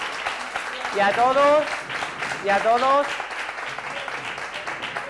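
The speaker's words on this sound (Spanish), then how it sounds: "Un aplauso." Crowd applause at an anniversary gala for a local TV channel, a steady wash of clapping running throughout while someone speaks over it in Spanish at two points.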